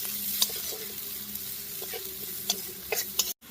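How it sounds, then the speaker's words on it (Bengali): Chopped onion fries in hot oil, a close, steady sizzle with several sharp scrapes of a stirring spoon against the pan, ending in a brief cut to silence. "পেঁয়াজ কুচিটা দিয়ে দিচ্ছি, তেল গরম হয়ে গেছে। আর পেঁয়াজটাকে একটু ভালো করে ভেজে নেব"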